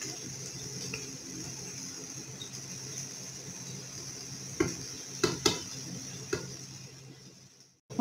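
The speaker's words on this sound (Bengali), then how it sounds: "এখন আমরা পাস্তাগুলোকে সসের সাথে ভালো করে মিক্স করে নেব যেন প্রত্যেকটি পাস্তার সাথে সসগুলো ভালোভাবে মিক্স হয়ে যায়।" Boiled pasta being stirred into red sauce in a pan for a Bangladeshi-style red sauce pasta, a steady soft sizzle and scraping with a few sharp utensil clinks against the pan, close and moderately quiet.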